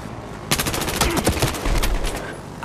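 A weapon in the video game Battlefield Hardline fires a rapid automatic burst of sharp, loud shots lasting about a second and a half, followed by a few trailing reports.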